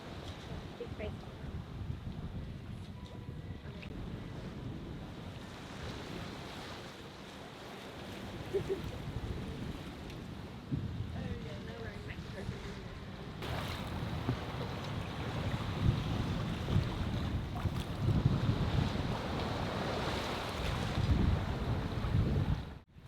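A 40ft sailing boat runs dead downwind on calmed seas, with soft water rushing past the hull and gusts of wind buffeting the microphone, building louder toward the end.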